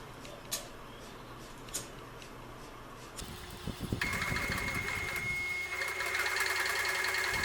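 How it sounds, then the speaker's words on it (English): A sewing machine stitching flaps onto an oilcloth tarp, starting after a few quiet knocks and then running in a steady close mechanical whir with a high whine through the second half. "And then I'll sew these 2 flaps onto the tarp like this."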